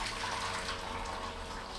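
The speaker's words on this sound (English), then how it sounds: "Then you just pour it in a bowl" Boiled hot water pours steadily into a bowl, a continuous splashing liquid stream that stays close and even throughout with no talking.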